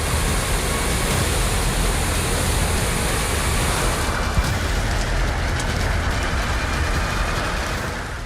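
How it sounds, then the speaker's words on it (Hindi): The Rispana river in Dehradun rushing in full spate, a dense, loud, continuous roar of turbulent water that stays steady throughout with no talk. "देहरादून में रिस्पाना नदी पूरे उफान पर बह रही है।"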